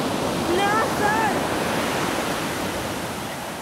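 Ocean surf at a beach in Mazatlán washes in as a steady, loud broadband rush, with a brief faint voice-like sound near the start.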